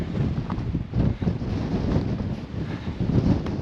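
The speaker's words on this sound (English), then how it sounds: "I'm coming to the end of this hill, and the wind really picked up." Strong, gusting wind buffets the microphone on an exposed hilltop at the end of a climb through canyon country, a loud continuous low rumble with no voices.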